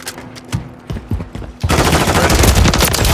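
Sustained automatic gunfire in Call of Duty Modern Warfare 3 multiplayer: a few scattered shots at first, then a dense, loud, continuous barrage of rapid rifle fire crackling without pause.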